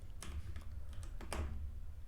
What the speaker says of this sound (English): I'm having a very bad time typing on the new keyboard